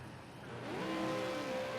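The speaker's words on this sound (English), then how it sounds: "we can hear the revs of the drivers" V8 Supercar race cars rev their engines on the grid at the race start of a 150 km round at Long Beach, a rising tonal roar that swells quickly and holds steady at a strong, close level.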